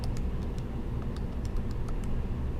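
Calculator keys are tapped in quick, uneven bursts of small clicks, close up, over a steady low background rumble.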